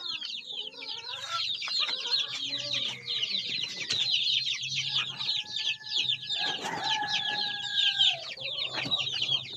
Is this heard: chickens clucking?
yes